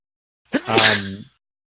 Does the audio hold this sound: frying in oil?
no